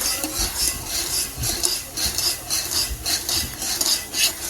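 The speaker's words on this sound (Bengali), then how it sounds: "এখন চাল মুচমুচে করে ভেজে নিব।" Rice grains, premixed with salt water, frying crisp in a pan while being stirred, producing a continuous close raspy scraping with rhythmic strokes of the utensil throughout.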